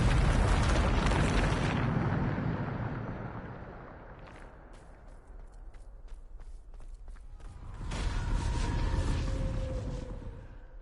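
A Bombarda spell explodes in Hogwarts Legacy, a loud deep boom with a rumbling tail that fades over a few seconds, followed by light footsteps and a second swelling rush of sound.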